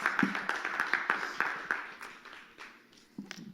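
An audience claps in a brief round of applause, a scattering of quick hand claps that fades out over a few seconds, with a faint voice near the end.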